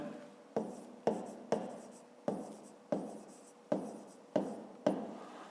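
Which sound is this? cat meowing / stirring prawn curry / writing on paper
writing on paper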